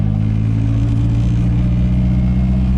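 A Nissan S13 engine drifting on a wet road, a loud, steady, droning mid-pitched engine note with a continuous rumble and no clear individual revs.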